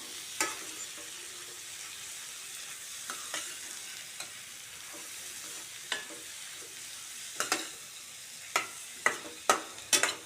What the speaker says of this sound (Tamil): மறுபடியும் நல்லா கலந்து விட்டுருவோம்